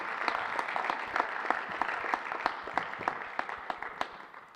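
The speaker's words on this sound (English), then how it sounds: "So give her another round of applause." Audience applause at a school board honors and recognition ceremony, steady crisp clapping from a room of people with distinct sharp claps standing out, fairly distant and fading toward the end.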